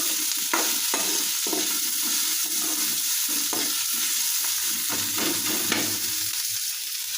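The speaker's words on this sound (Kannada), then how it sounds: "ಈಗ ಇಲ್ಲಿ ನಾನು ಉಳ್ಳಾಗಡ್ಡಿ ಒಂದು ಸ್ವಲ್ಪ ಎಣ್ಣೆ ಹಾಕ್ಕೊಂಡ್ಬಿಟ್ಟು ಹುರ್ಕೊಳತ್ತೀನಿ ನೋಡಿರಿ." Onions frying in a little oil in a pan, giving a dense, steady sizzle with repeated soft scrapes as they are stirred, close and fairly loud, with no one speaking.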